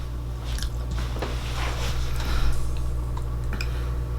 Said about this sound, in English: It's a different crunch because it's not the cookie that's crunching, it's the sugar that's crunching.